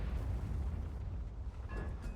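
A tank cannon shot in World of Tanks, a loud, deep boom rolling into a sustained low rumble across the whole moment with no voices over it.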